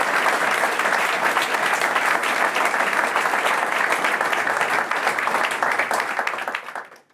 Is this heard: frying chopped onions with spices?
no